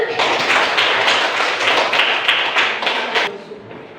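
A school class claps hands together, a brisk burst of many close claps that holds steady, then thins and fades near the end.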